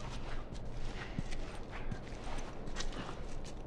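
Horse hooves clip-clop in The Last of Us video game, a fairly faint, regular walking rhythm of hoof strikes under a low background.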